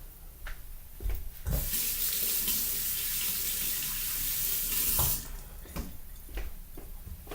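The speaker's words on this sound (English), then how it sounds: "I'm going to wash my hands" Tap water runs steadily into a sink for several seconds during hand washing in a home kitchen while burgers are being cooked, with brief splashes and clinks before and after the flow.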